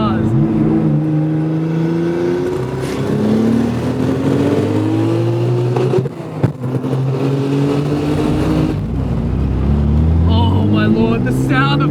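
A twin-turbo Nissan RB26 engine swapped into a Datsun 240Z revs and accelerates hard through rising gear pulls, loud and close, with engine whir and a voice talking over it.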